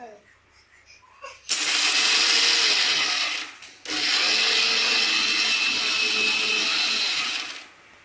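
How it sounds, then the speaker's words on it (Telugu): An electric mixer grinder whirs loudly up close while grinding tamarind, garlic, cumin, roasted peanuts and green chilies, running in two long bursts split by a brief pause, then winding down. "మిక్సీలో గ్రైండ్ చేసుకుందాం."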